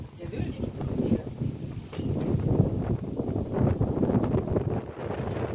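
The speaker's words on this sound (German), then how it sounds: "Es kommt ein scheiß Windstoß," Gusty wind buffets the microphone outdoors near water, a rough, roaring rumble that swells and surges in waves across the whole stretch while people talk underneath it.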